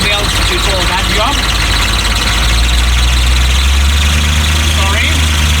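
A Chevy G20 van's 6.2 diesel engine idles loudly and close with its engine cover missing, a deep rumbling drone with occasional thin squeals from a slipping belt rising above it.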